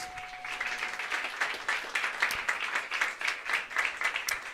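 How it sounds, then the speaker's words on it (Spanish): A church congregation claps during a Holy Week worship service, a lively, rhythmic burst of many hands pulsing steadily at moderate volume, with a faint sustained tone at the very start. "Denle un fuerte aplauso a nuestro Dios"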